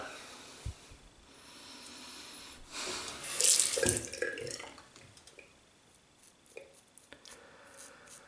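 A bathroom tap runs quietly while a razor is dipped under the water, the stream swelling into a brief splashing hiss midway before settling back to a soft trickle with scattered drips.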